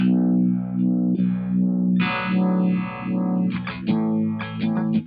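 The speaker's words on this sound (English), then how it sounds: "let's try parameter 2, the amount of fuzz." A heavily fuzzed, distorted guitar tone through a Boss MD-200 pedal, with sweeping, wavering filter movement, sustained and loud throughout, with no talking.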